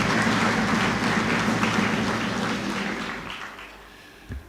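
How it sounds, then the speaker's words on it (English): Applause from an audience at a formal public gathering in Kenya, broad and sustained, gradually fading over a few seconds with no talk over it. "Please let us give them a round of applause."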